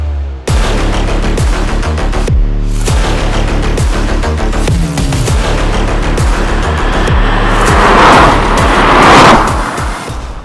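A Skoda Octavia VRS with a DSG gearbox drives past, its engine roaring loud and close and building to a strong surge of broadband noise toward the end, with no talk.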